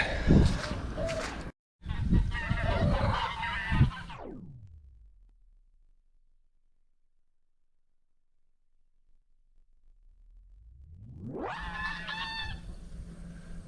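Geese honk and squawk loudly nearby, the calls fading out to silence before returning and growing louder again.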